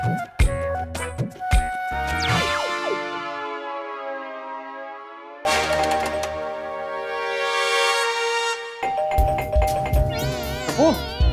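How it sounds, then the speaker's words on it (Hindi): A household doorbell rings in repeated melodic ding-dong chimes, long and resonant, coming back after a gap, with brief background voices and sounds around it. "इस वक्त कौन घंटी बजा रहा है?"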